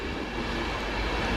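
Train 82211, a driving van trailer, at Wakefield station with a steady broadband rumble and hiss of rail noise throughout, fairly close and even in level, no voices.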